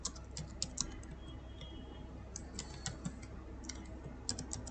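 Quiet computer keyboard typing while a Python for loop is written: light, uneven clusters of key clicks with brief pauses, close and soft against a faint background hum.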